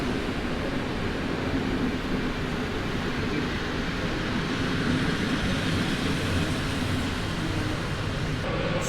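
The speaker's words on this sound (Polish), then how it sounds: "przejechał opóźniony kilkanaście minut Intercity Wawel" The Intercity Wawel train passes through Kraków Główny station as a dense, steady rumble and roar that fills the whole stretch at a constant loud level, with no talk.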